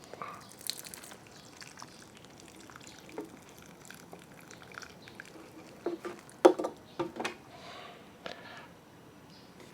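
Water is poured onto potted garden plants in a quiet setting, giving faint scattered patters, drips and splashes in irregular bursts.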